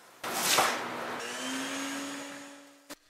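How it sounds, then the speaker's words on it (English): A vacuum cleaner sucking dust out of a cheap second-hand wood stove during restoration, a loud rising whine that settles into a steady hum, then cuts off with a short clunk at the end. "I'm just gonna vacuum this thing as clean as I can"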